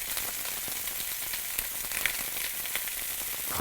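Lamb pieces searing in a hot pan give a steady, close crackling sizzle with scattered pops, even in loudness from start to finish and heard alone without voices.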